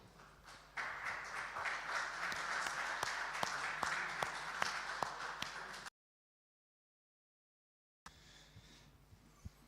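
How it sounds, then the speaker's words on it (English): Audience applause filling a hall at a talk on digital sovereign identity, steady loud clapping for several seconds, then a sudden gap of silence before quieter crowd sounds resume. "So please, let's have a warm round of applause for Markus."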